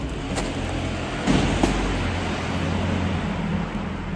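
Cars in street traffic in Avignon on an afternoon, a continuous nearby roadway rumble with a couple of louder passing bursts and clunks, no voices.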